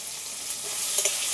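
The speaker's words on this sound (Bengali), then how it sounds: "একটু লাল লাল করে ভেজে নেব।" Tomatoes and fish frying in a pan with a little salt and turmeric for a taro and tangra fish curry, a soft steady sizzle with faint stirring scrapes and a couple of brief clinks near the end.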